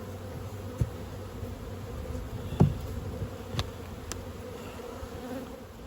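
Honeybees buzz around a hive during spring management, a faint, steady hum with a few sharp taps and knocks over it.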